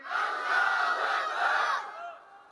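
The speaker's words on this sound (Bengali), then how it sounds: "জোরে তাকবীরের আওয়াজ দেন নারায় তাকবীর" A large crowd at a religious gathering roars a takbir chant in unison, a loud sustained shout of many voices that swells, holds for nearly two seconds, then fades out.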